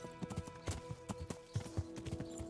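Horse hooves clip-clopping in the medieval game Kingdom Come: Deliverance, a quick uneven run of clopping beats with a steady tonal game background underneath.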